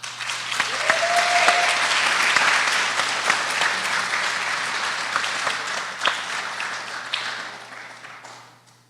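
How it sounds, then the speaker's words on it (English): A college forum audience applauds warmly, a dense, steady wash of clapping that swells for about two seconds, holds, then fades out near the end, with a brief whistle early on. "Thank you for that applause."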